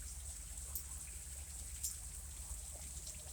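Steady rain falling on a wet evening in Columbus, Georgia, a faint, even hiss with scattered light drips and a low background rumble, with no one talking.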